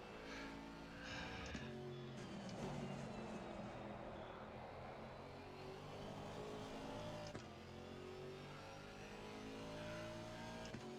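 An Aston Martin GT4 race car lapping Suzuka in a racing game, a steady engine drone with shifting pitch through throttle changes and gear shifts, quiet and continuous, no voices.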